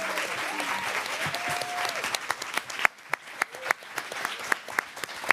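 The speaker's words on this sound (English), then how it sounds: "I want to just invite you all to give one more round of applause to the panelists here." Audience applause for the panelists at a Minnesota political panel event, a steady wash of clapping that thins out into scattered individual claps, with a brief voice in the background near the start.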